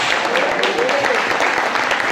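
A church congregation applauds loudly together, a dense crackling wash of clapping that fills the short stretch, with voices mixed in underneath.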